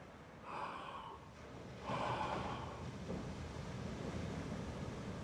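Two sharp, breathy gasping rushes of air drawn through hollow bamboo tubes, each a short airy hiss, over a low rumbling wind-like background.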